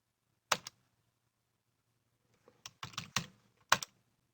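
A computer keyboard is typed on in a quiet room: one quick double tap, a pause, then a short run of crisp close keystrokes ending in a firm press.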